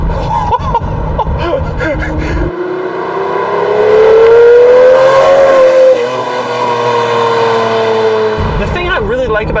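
A Lamborghini Murcielago LP640 engine revs hard and loud from the cabin, its pitch rising and falling in a long sweep, with people speaking briefly before and after.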